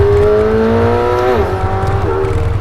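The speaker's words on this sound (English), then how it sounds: "The twin turbo V8 sounds" A McLaren 720S Spider's twin-turbo V8 engine roars loudly up close, its pitch climbing and dipping through revs and shifts.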